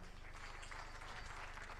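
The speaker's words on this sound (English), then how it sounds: "A round of applause for her." Applause for a speaker at a regional policy conference in Kenya, a steady dense patter of many hands clapping throughout, moderately loud with no talk over it.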